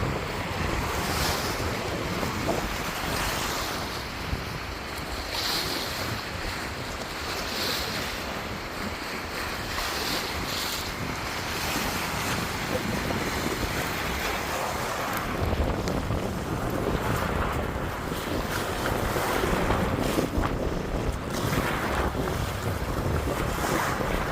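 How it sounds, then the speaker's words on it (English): Ocean waves wash onto the shore along a beach trail, a continuous loud surf roar with rolling swells and wind over the microphone, no talking. "Listen to those waves."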